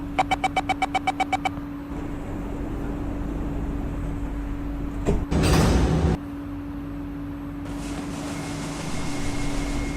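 A rapid series of warning beeps, then a short whooshing slide and thump as train doors close at Exhibition Center station, over a steady low carriage hum, in a train simulator.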